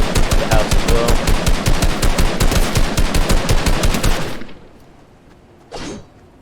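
Rapid automatic gunfire from a Fortnite match, a dense loud burst of shots lasting about four seconds, then a near-silent pause and one brief final report.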